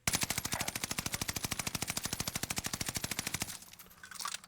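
Automatic weapon fire in Call of Duty Warzone Pacific while aiming down sights, a fast, evenly spaced stream of loud shots lasting several seconds before cutting off.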